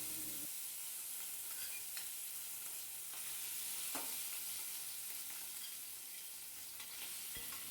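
Prawns coated in salt and turmeric fry in smoking-hot mustard oil, a steady dense sizzle and crackle filling the whole stretch, with occasional faint clicks of a utensil against the pan.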